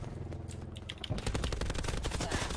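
Rapid automatic gunfire in Black Ops 4, a few scattered shots followed by a dense, rattling stream of rounds that grows louder and continues steadily, with no talking.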